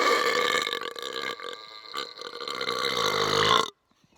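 A long, loud, drawn-out burp that holds for several seconds with a wavering tone and ends abruptly, leaving near silence.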